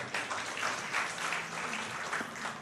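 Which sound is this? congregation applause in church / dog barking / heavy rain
congregation applause in church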